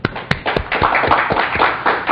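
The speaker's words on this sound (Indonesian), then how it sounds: "Kita beri tepuk tangan dulu." A short burst of scattered clapping from a small group, uneven and sparse, fading into a murmur of room noise.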